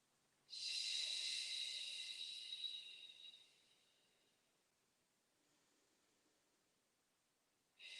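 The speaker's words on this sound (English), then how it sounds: "Let us breathe 5 breaths here." A slow, soft yoga breath: a long, airy exhale hisses for about three seconds, fades into a faint quiet stretch, then a new breath begins.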